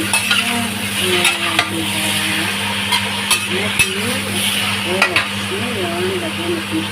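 Octopus hits a hot pan with pork belly and sizzles steadily throughout, broken by occasional scraping and stirring clatter from a utensil.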